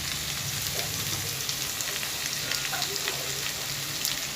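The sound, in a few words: ground spices added to frying pointed gourd and potatoes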